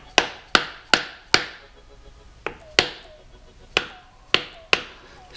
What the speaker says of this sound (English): I'm sure that I don't tap that bolt inside